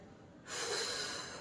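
A single breathy exhale released during a standing twist exercise for weight loss, starting suddenly and continuing as a soft, steady, close-up rush of air.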